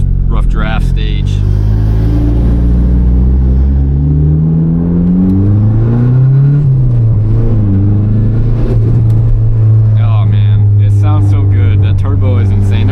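A turbocharged Mazda Miata with no blow-off valve revs and shifts, its engine drone rising and falling in pitch with fluttering turbo chatter, heard from inside the car while a person talks over it.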